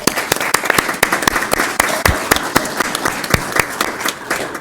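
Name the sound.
audience applause at school board meeting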